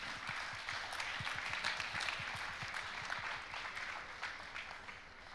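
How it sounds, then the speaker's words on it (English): A room full of people applauding, dense clapping that holds steady throughout without fading. "So another round of applause for Stan, please."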